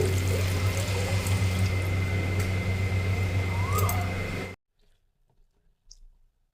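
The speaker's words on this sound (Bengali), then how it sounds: "দুশো গ্রাম চালের মধ্যে আমি দিয়ে দেব হাফ লিটার জল" Half a litre of water pours onto rice in a cooking pot as a steady rushing splash over a low hum. It cuts off abruptly, leaving faint quiet clicks.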